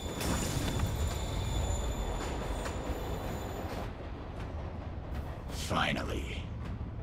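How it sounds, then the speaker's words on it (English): Moving train in the Spider-Man video game, a dense, loud rumble of wheels and carriages with a high whine, easing slightly midway, while a voice speaks over it near the end. "Train's moving."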